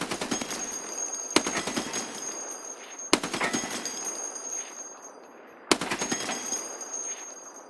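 A heavy machine gun mounted on rocks fires in Escape From Tarkov, three loud, rapid bursts of automatic fire, each opening with a sharp report and followed by a fading rattle.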